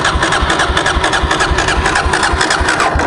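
A carbureted Suzuki DRZ400S motorcycle thumps into life and settles into a steady, close, rapid single-cylinder idle, loud and continuous with no talking.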